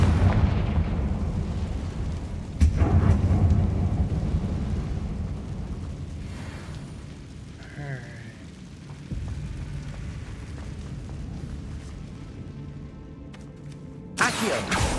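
Confringo blasting-spell explosions in Hogwarts Legacy, a sharp loud burst near the start followed by a long rumbling decay and debris rattle, then a softer pop and a second sudden blast at the end, with no talk.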